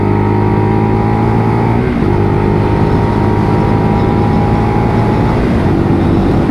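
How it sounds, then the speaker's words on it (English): A Lexmoto LXR SE motorcycle engine runs at full throttle on the road, a loud, steady, droning roar with a brief dip around two seconds before the revs climb again, continuous and close throughout. "Build the revs up, nice and easy"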